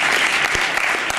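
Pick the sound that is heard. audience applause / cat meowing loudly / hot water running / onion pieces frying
audience applause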